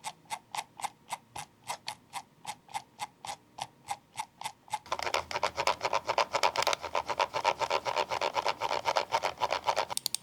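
Razer DeathAdder V4 Pro mouse scroll wheel turning with a ratchety feel, a steady run of crisp, close clicking notches, slow and evenly spaced at first, then speeding into a dense rapid clatter.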